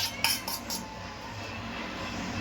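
A utensil taps against a pan a few quick metallic times as a smashed fried egg goes in for egg rice, followed by a steady low sizzle.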